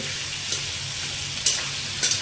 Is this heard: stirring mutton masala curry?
yes